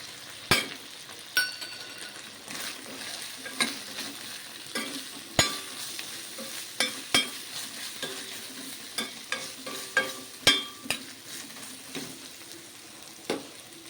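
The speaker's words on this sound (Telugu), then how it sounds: "అది పచ్చి కాబట్టి కొంచెం నూనెలో వేసుకుందాము అదేవిధంగా పసుపు వేద్దామండి" A raw coconut and poppy seed paste fries in a little oil with turmeric, a soft sizzle broken by a long run of sharp spoon clinks and scrapes against the pan at an uneven pace.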